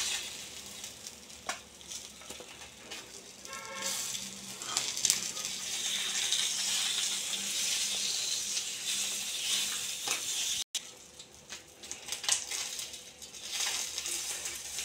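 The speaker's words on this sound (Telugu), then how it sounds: "ఇంకా మిగతా చేపలు కూడా ఇలాగే ఫ్రై చేసేసుకుందామండి" Murrel fish fries in a pan with a steady, moderately loud sizzle and crackle, punctuated by occasional clinks and stirring, uninterrupted by speech.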